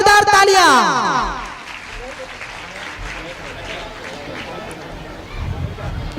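Audience clapping at a live outdoor World Indigenous Day (Adivasi Parab) festival stage event in Kasdol, Chhattisgarh. A brief tonal sweep opens, then sustained crowd applause rolls on steadily at moderate loudness.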